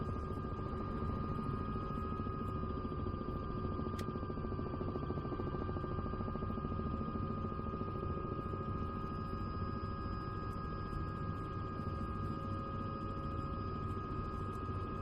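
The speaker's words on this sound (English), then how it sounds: "You and your chopper make a great team." A helicopter engine in Microsoft Flight Simulator 2024 drones steadily at a low level, a continuous even hum with a faint high whine and no voices.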